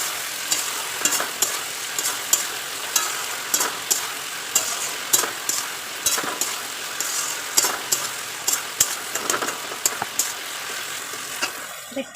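Ginger, garlic and green chili paste frying in a pan for chili chicken: a steady sizzle with regular scraping stir strokes, clear and close, no talking.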